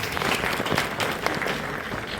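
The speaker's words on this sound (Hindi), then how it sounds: "इसके लिए जोरदार तालियां हो जाती हैं।" An audience at an award function gives hearty applause, a dense, steady roar of many hands clapping at moderate loudness with no one talking over it.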